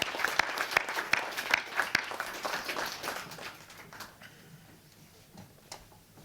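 Applause for award winners at the Cliff Bellamy Awards 2025 ceremony: a moderate crowd claps with sharp individual slaps standing out, fading over the last two seconds to a few scattered claps.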